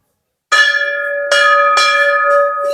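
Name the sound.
temple bell being rung at Masani Mata temple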